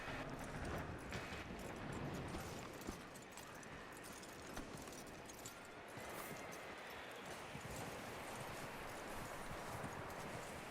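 Horse hooves clip-clop steadily in Red Dead Redemption 2, a faint continuous patter of steps set under a dense, noisy outdoor wash with no talk.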